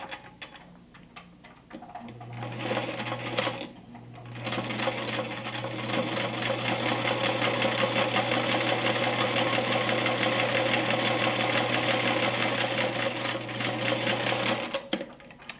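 A sewing machine stitches quilt block seams with a steady, fast mechanical whir that starts after a brief pause, runs continuously for about twelve seconds, then stops, close and moderately loud.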